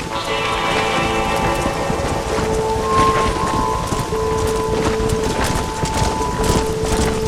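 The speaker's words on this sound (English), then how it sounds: "I haven't seen a storm like this for a while." Steady heavy rain with rumbling thunder during a storm in the video game Red Dead Redemption, loud and constant throughout with a few faint tonal game sounds layered over it.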